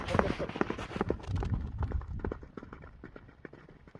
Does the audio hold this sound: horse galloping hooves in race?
yes